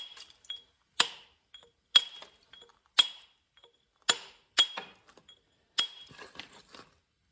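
A small hammer taps a chisel on carving stone while working a life-size bas-relief angel, producing sharp, bright clinks about once a second, seven distinct strikes with short ringing decays, close and alone.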